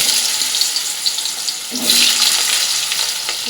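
Cut potatoes meant for a cabbage dish sizzling in hot mustard oil in a wok, a steady close hiss with a brief louder surge of crackling midway as pieces settle, with no talking.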